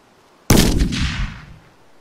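A grenade explosion in the video game Arma 3 lands as a single sudden, loud close blast with a booming low rumble that decays over about a second into quiet.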